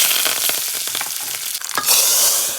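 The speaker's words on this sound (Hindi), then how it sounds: "अब हम डाल देंगे छौंक।" Curry leaves, red chili, mustard seeds and cumin hit hot oil for a tempering, giving a loud burst of crackling sizzle that settles into steady frying hiss, with stirring sounds and no talk.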